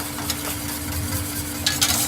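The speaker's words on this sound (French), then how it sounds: "il vous faut remuer pendant tout le temps de la cuisson" A spoon stirs pastry cream in a saucepan on the heat, a soft continuous scraping and swirling with a faint sizzle beneath, close and steady with a few brighter scrapes near the end.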